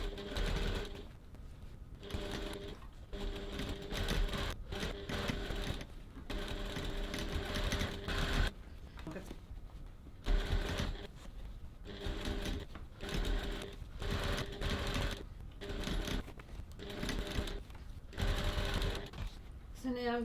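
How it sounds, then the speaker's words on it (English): A sewing machine stitches the side gusset seam of a crossbody bag in repeated bursts of whirring motor noise with brief pauses between runs, close and steady, while a person talks over it. "I'm just going to go over to the sewing machine and stitch the seam"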